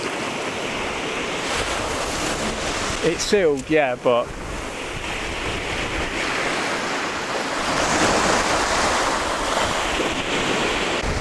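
Sea waves washing onto a sandy shore, a loud continuous roar and surge with heavy wind buffeting nearby, swelling toward the end; someone speaks briefly near the start.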